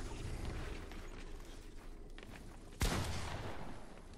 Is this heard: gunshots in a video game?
yes